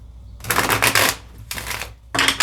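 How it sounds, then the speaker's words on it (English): Tarot cards are shuffled in three quick riffling bursts, a crisp papery rush with short pauses between, close by and with no talking. "Shuffle one more time."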